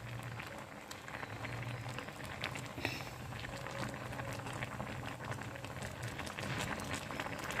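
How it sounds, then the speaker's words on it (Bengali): Whole tomatoes and green chilies boil in a salted pot of water, giving a faint, steady bubbling and pattering that continues throughout with occasional small pops. "তো আমি এখানে গোটা টমেটো সেদ্ধ করে নিচ্ছি ভালো করে"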